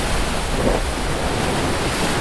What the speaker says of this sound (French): Des vagues puissantes.